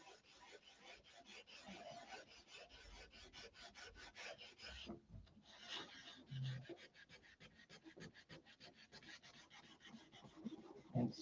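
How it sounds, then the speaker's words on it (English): Sander working on wood, a quiet, rapid rhythmic rasping of repeated back-and-forth strokes that briefly pauses midway, then resumes at an even pace. "The trials and tribulations of the sander."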